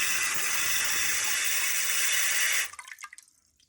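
A bidet attachment on a toilet sprays water with a strong, steady hiss that runs continuously, then abruptly cuts off, leaving a few trailing drips and splutters.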